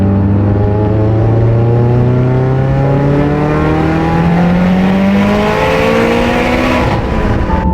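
A Mitsubishi Evo X on a stock engine boosted to 40 PSI pulls hard through third gear, its engine note climbing steadily and loudly for several seconds with a continuous rising whine and no talk.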